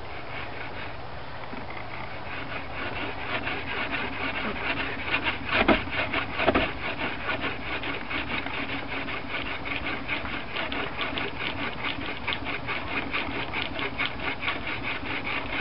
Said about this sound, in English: it's like starting a fire with a bow drill